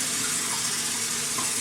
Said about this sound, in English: I'm just going to put enough water in so that it covers the Brussels sprouts